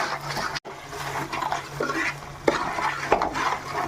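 Spices and masala for an Andhra-style fish curry are stirred in a pan, with close scraping and clinking of a utensil against the pot over a soft frying sizzle.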